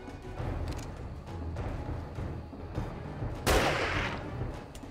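Gunfire in the survival game 7 Days to Die, a steady run of shots at moderate level, capped by one sharp louder blast near the end, with no talking.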